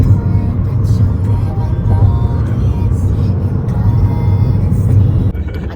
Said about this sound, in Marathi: ही कार आम्हाला घ्यायला आली आहे.